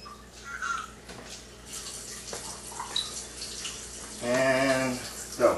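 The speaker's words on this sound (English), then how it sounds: "Let's get our water flow set up." Water runs from a Chanson VS-70 under-counter water ionizer, an uneven trickling flow that swells louder toward the end, heard close with no talk.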